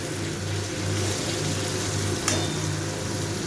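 Onions fry gently in a pan for a yogurt chicken curry, a steady soft sizzle with a faint stirring scrape and one small clink near the end, no talking.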